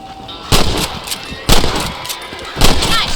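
Three loud rifle shots in the Red Dead Redemption video game, fired at rabbits, each a sharp crack with a short echoing tail, spaced about a second apart.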